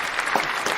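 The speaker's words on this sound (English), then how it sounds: "And the crowd goes wild." A crowd claps and cheers in a dense, steady burst of applause, fairly loud and continuous with no talking over it.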